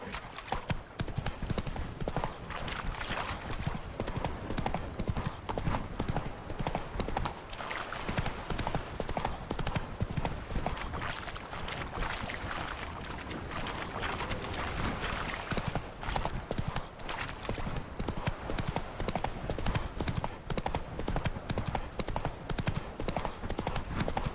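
A horse gallops in The Witcher 3 on PS5, with rapid, steady hoofbeats drumming continuously and loudly and a brief whinny mixed in, alongside game ambience throughout.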